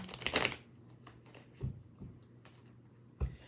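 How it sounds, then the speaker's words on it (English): Playing cards are shuffled close up, opening with a crisp riffling burst and followed by a few soft taps and thumps as the deck is squared, in an otherwise quiet room. "One more shuffle."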